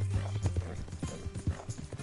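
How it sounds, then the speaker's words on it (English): Horse hooves clip-clop in Red Dead Redemption 2, a quick uneven run of close, thudding steps over dirt beneath a low ambient hum. "this is a cool looking horse though"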